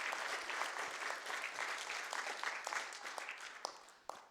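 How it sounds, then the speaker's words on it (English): Audience members applaud themselves at a Hastings Black History Month celebration, a steady wash of many hands clapping that thins and fades toward the end, with a few sharper claps standing out near the close. "Y'all should give yourselves a round of applause for being in this space."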